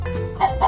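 Chickens cluck briefly in an animated children's story, with a soft low hum under it and two short, close clucks near the end.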